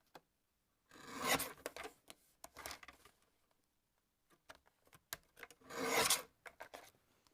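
Quiet, close rasping swipes of a small paper trimmer slicing through card, two longer strokes separated by softer scattered clicks and rustles of handling, with silent gaps between.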